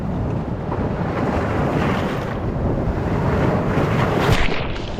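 Ocean waves and swell wash against a South African shoreline in a continuous rushing surge, with gusts of wind buffeting the microphone and the roar building slightly toward the end.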